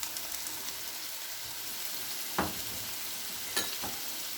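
Chopped bell peppers added to onions frying over medium-low heat in a pan for vegetable cheesy pasta, a soft steady sizzle with a couple of brief stirring scrapes.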